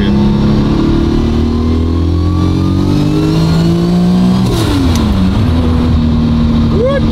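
Tuned 1000 hp VW Golf engine, loud and close, idling with a rough drone, then revving up sharply and dropping back, with a turbo whoosh and a rising whistle at the end; people talk faintly.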